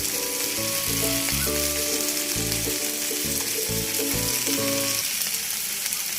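Fish sizzles and crackles steadily in hot oil in a frying pan, a close, continuous frying hiss with a tonal melody playing underneath.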